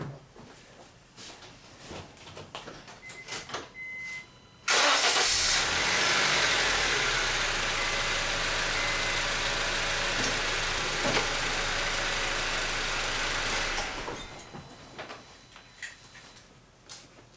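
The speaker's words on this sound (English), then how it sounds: "now go ahead and start the car and run it through all of the gears." A 2006 Honda Civic EX with an automatic transmission runs steadily at close range while being shifted through its gears, a loud even engine hiss and hum lasting about nine seconds before dropping back to quiet.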